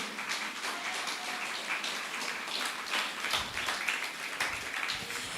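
A church congregation claps together during a morning service, a steady patter of many hands at moderate level that holds throughout.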